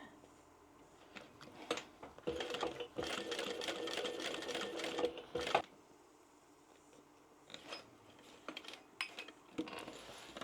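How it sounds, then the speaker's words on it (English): A domestic sewing machine runs in short and longer bursts, stitching around the very edge of a handmade bag, with a steady whirring rattle between quiet pauses and a few light handling clicks. "I'm going to sew now around the very edge of that"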